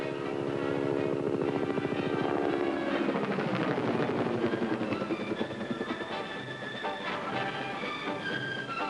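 Attack helicopters flying evasive maneuvers give a steady, loud rotor drone with pulsing blade chop, its pitch sweeping downward as the aircraft passes and shifts position.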